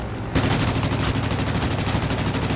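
Rapid machine-gun fire from a World of Warplanes aerial dogfight, a loud continuous burst of rattling shots that starts abruptly and keeps going to the end.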